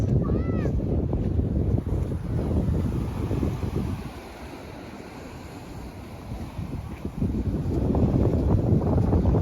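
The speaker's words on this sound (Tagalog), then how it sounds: "sarap sa tenga nung tunog ng aalon" Steady rush of ocean surf with waves breaking and washing in on a beach at San Felipe, Zambales, mixed with wind buffeting the microphone, swelling louder at the start and end.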